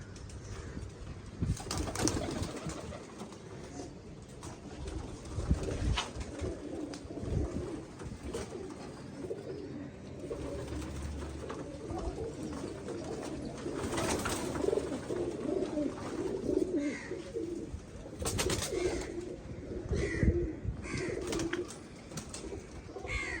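Pigeons coo in low, repeated rounded calls among a flock, with occasional wing flaps and rustling, steady and fairly close throughout with no voices.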